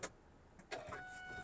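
A 2025 Kia Carnival's power door opens after a button press: a soft click and then a faint whirring motor hum that rises and holds, quiet and close.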